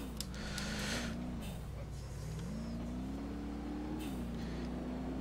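An ETK K Series car in BeamNG.drive accelerates, its engine whine climbing and dipping in pitch as it shifts and builds speed, steady and close throughout.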